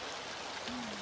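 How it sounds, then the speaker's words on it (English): Falling water from a waterfall in the Quinault rainforest hisses as a steady, dense rushing wash, close and continuous, with a faint voice-like tone rising briefly near the end. "This is a waterfall during the river"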